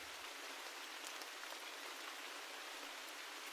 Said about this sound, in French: Laissez le son de la pluie devenir votre centre d'attention.